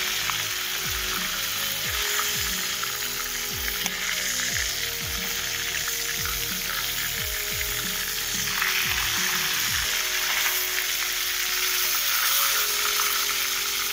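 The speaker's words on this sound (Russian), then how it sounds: "Смотрите, как шкварчит обалденно." Chicken sizzling loudly and steadily in a kazan over a campfire, a dense continuous crackle of hot fat with occasional low knocks or stirring thumps, no voices.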